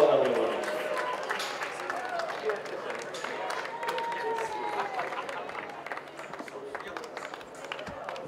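Crowd applause at a polo club, a steady wash of clapping spread across the whole stretch, with voices and an announcer talking over it.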